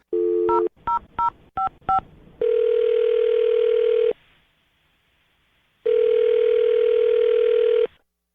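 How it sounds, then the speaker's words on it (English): A burst of touch-tone dialing beeps from a telephone, about six quick tones, followed by two long, loud ringback tones separated by a pause. "I'm going to dial her phone number right now"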